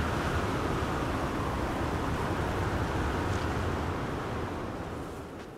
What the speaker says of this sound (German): Okay, hier ist Wind. Oh, ganz schön windig.